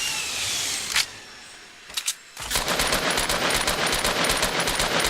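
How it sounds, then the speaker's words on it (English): Rapid gunfire from the video game Fortnite shoots out walls: a couple of isolated shots, a brief lull, then a sustained burst of fast automatic fire that stays loud and dense to the end. "started shooting those walls out again"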